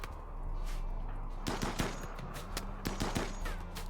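Colonists shooting in the RimWorld video game, a scattered run of sharp gunshots and short bursts over a steady low hum, moderately loud with uneven spacing.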